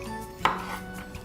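A kitchen knife chops potatoes on a cutting board, one sharp close knock over a faint hum, heard alone.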